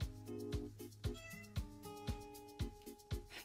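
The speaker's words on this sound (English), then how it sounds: "My cat." A house cat meows again and again, each call loud and close in a steady rhythm of sharp cries about every half second. No voices break in.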